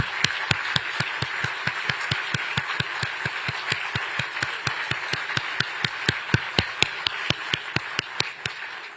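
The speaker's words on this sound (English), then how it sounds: "I wish you would applaud them because we owe them everything as well" Sharp, rhythmic clapping, fairly close and evenly spaced, repeating steadily like an audience clapping in unison at a speech on supporting unions in Philadelphia.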